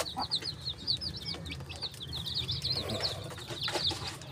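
Native chickens cluck and chirp on a farm, a busy overlapping chorus of small calls and higher peeps from chicks, moderately close, with no talk.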